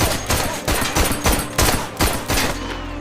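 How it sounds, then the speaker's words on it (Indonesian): Gunshots ring out in a tense scene from the 2019 film Lucky Day, fired in a quick run of about eight sharp, loud cracks over a few seconds, with no voices. "tembakan Luke meleset saat hendak membunuh anak kecil."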